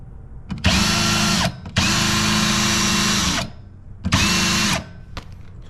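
Old Jiffy gas ice auger converted to run on an electric drill, whirring loudly in three separate bursts of varying length with short pauses between, close by and with no talking.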